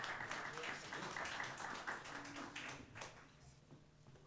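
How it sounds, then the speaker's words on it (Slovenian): At a music competition, an audience claps for a young performer called to the stage, scattered quiet clapping with distinct individual claps that thins out toward the end. "Aplavz za Danajo."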